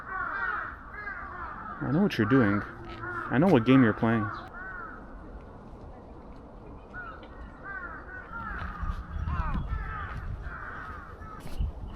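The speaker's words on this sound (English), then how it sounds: "Man, these birds are everywhere." Crows caw loudly in an Osaka park, with two bursts of harsh repeated calls close by followed by scattered fainter caws, while someone talks over them.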